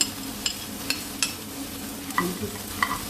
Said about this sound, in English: So for 3-4 minutes I have fried these spices.